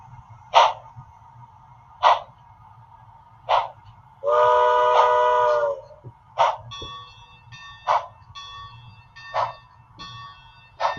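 A Bachmann model train locomotive fitted with DCC and sound plays repeated short electronic whistle toots with a longer horn blast in the middle, close and clear over a faint mechanical hum, with no voices.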